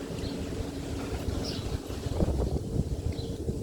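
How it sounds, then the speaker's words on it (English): Wind blowing outdoors across a table: a steady, buffeting rumble on the microphone with gusts rising and falling, and no one talking. "It's nice and windy out here."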